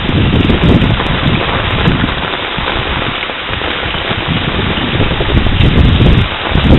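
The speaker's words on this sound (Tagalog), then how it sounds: "Nagsimula ang ulan kanina pang umaga at hindi pa ito tumitigil." Loud, steady downpour of heavy typhoon rain from Typhoon Ondoy in Pandacan roars without a break, mixed with gusty wind rumble close to the microphone.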